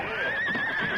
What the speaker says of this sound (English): the driver brought the horses to a halt